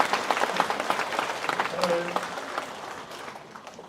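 A church congregation applauds during a Sunday morning service, a dense wash of clapping from many hands that tapers off, with a voice speaking over it.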